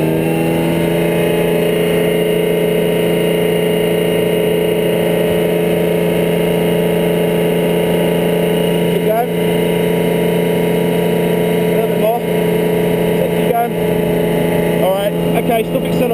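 A military APC stuck in mud runs its engine hard under load, a loud, sustained droning roar with steady tonal hum, close up, with brief faint shifts in pitch as it strains.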